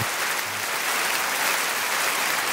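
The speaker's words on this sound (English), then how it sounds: "I believe this is more applause than Taylor Swift gets." Sustained, dense applause from a crowd in a Star Trek: Strange New Worlds roundtable audience, steady and fairly loud throughout with no clear voice on top.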